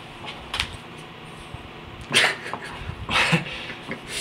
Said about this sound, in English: we got the most vicious dog right here